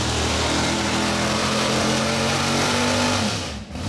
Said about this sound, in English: I think that's Fury down there making all that noise.